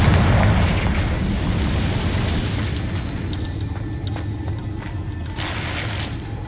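A Confringo blast spell from Hogwarts Legacy, a loud, booming burst that opens the clip and fades into a long rumbling tail with clanking mechanical rattles over it. No voices are heard.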